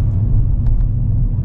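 A shiny Mercedes car drives along the road, a low, steady engine and tyre rumble heard from inside the cabin, with a couple of faint clicks.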